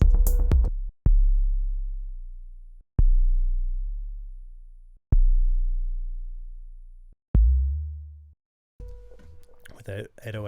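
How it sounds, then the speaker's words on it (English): An 808 bass tone, close to a pure sine wave, booms five times in a steady pattern, each low note sustaining and slowly decaying before the next hit, with a brief busier sound at the end. "With 808s, I always put an octave higher if I'm trying to find the pitch, because sometimes it's just like, because it's pretty much straight sine wave"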